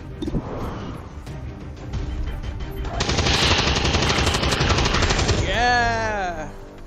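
Rapid automatic gunfire rattles in the XCOM 2 video game, a loud sustained burst of shots layered over busy game effects, with a voice speaking at the end.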